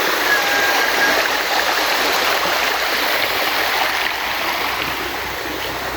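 Clear, cold stream water flows steadily on a vegetable farm in a hillside village, a dense rushing wash held at an even level from start to finish with no voices.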